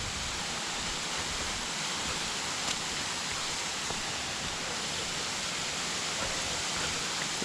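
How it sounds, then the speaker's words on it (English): A small brook in North Carolina flows steadily and close by, a continuous rushing wash of water with no pauses and no voices. "Little brook here."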